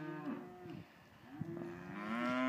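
Heifers mooing at a farm cattle sale, several loud drawn-out bellows close by, one overlapping another, with no talk.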